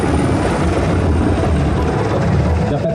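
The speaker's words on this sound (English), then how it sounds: "the patrolling helicopter is now and employ real-time data surveillance" A Malaysian military patrol helicopter on a maritime operation roars loud and steady overhead, its rotor producing a continuous low throbbing rumble throughout, with no voices.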